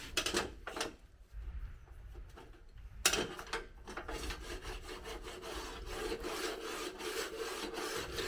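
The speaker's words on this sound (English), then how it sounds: "I'm taking the guide for cross-cutting the wood and running it back and forth" A cross-cut guide sliding back and forth in the grooves of a 1988 Delta 10 inch contractor's table saw, giving a close, rasping rub that starts in short strokes and then becomes a continuous grinding slide.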